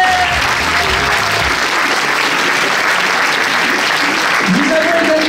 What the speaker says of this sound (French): Madame Marie-Doëlle Schliemann, que je vous demande d'applaudir.